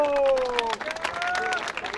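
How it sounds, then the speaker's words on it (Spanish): A crowd at a freestyle rap battle applauds and cheers, with quick clapping and shouts under someone speaking loudly over them. "Aplausos para Romero, aplausos también para Red Juan."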